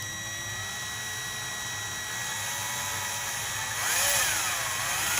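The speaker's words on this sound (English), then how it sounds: "And then I'm just going to drill a hole right in that mark." A power drill boring a hole into PVC pipe while building a therapeutic trike: a steady mechanical whir runs throughout, rising in pitch and loudness near the end as the bit bites in, with no talking.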